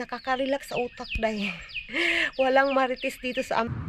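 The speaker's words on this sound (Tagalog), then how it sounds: "maririnig nyo talaga yung mga ibon" Outdoor birds chirp in the background under a woman's close, continuous talking, their calls faint and intermittent.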